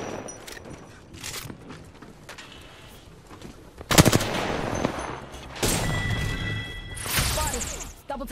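A team deathmatch shooter fills with loud bursts of automatic gunfire and sharp shots, growing denser midway with whooshes and thuds, while a voice talks now and then beneath the shooting.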